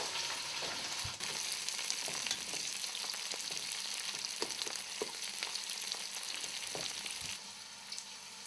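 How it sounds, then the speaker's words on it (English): Bell peppers sautéing with onions in a pan for sausage and peppers, a steady close sizzle with scattered crackles and a few stirring scrapes, no voices. "I'll just saute these a little bit with the onions for about 3 or 4 minutes"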